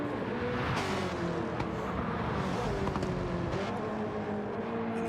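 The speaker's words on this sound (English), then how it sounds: "And hear that car, he's pushing it hard too." V8 Supercar racing around Mount Panorama at Bathurst in a racing video game, a continuous strained engine note rising and falling through gear changes, heard steadily with no talk.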